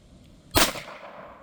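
A single sharp crack from a Sig P322 .22LR pistol rings out once, fairly close, with a short decaying tail and no speech.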